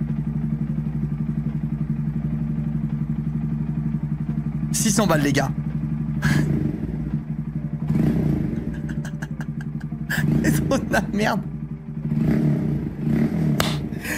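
A motorcycle engine idles with a deep steady rumble, then revs up in several loud bursts while people talk nearby.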